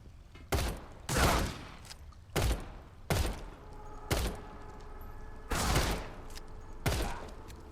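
Shotgun blasts in the video game The Sinking City, seven heavy booming shots spaced roughly a second apart, each loud and punchy over quiet game ambience.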